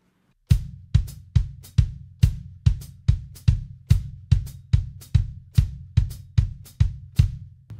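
Drum kit groove with the bass drum and hi-hat struck together, a steady, even pattern of about sixteen close, punchy hits played alone with no talking.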